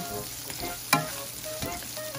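Sliced ginger and garlic sizzle in a pan for a squid dish, a steady close frying hiss broken by a sharp clank of the spatula and a few scraping strokes.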